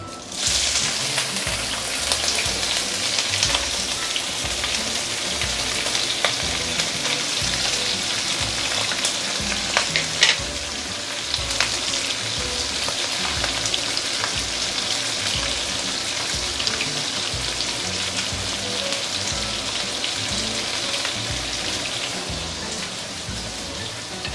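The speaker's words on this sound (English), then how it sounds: "This is time you can put in the prawn, but like I mentioned, be very careful, it can splatter" Prawns and ginger fry hard in hot oil in a wok, a dense, steady crackle and spatter lasting the whole time with no talking.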